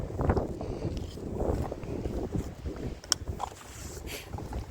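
Wind gusts outdoors beside a flowing creek on a cold day, a rough rumbling buffet against the microphone that swells and fades in waves, close and steady with no talk.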